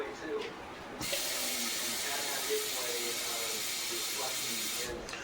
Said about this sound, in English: Now I'm gonna add a cup of water.